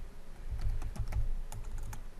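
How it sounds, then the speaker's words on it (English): Rapid, uneven clicking of a computer keyboard as someone types a tag name in programming software, short key strikes in quick bursts over a low room hum, with no talking. "The whole little typing."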